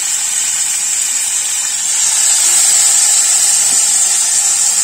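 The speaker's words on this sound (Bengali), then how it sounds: "তেল তো গরম হয়ে গেছে, এবার কাঠিতে গেঁথে রাখা টিক্কাগুলো একটা আস্তে আস্তে করে বসিয়ে দেব" Skewered paneer tikka being laid into hot oil in a pan, a loud steady sizzling hiss that swells and stays strong, close and continuous without any talking.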